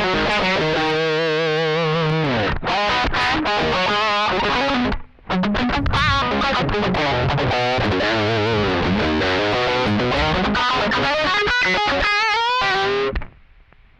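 An electric guitar played through a boost pedal into an overdriven Richie Kotzen Fly Rig, giving loud, crunchy distorted chords and single-note runs with one brief gap, no talking.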